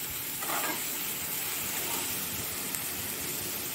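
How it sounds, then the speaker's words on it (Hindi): Vegetables for a pizza castle snack sizzle steadily in a pan, a continuous close frying hiss with faint stirring and no talk. "अब इसे मैं ज़रा सा सॉटे करती हूँ"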